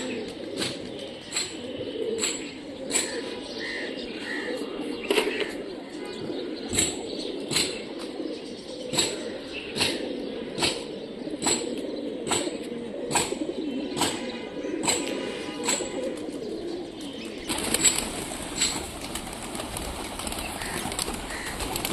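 Old-breed Giribaj pigeons from Rajshahi in display flight: repeated sharp wing claps ring out at a steady rhythm over a low, continuous murmur of cooing, with a brighter, noisier wash near the end.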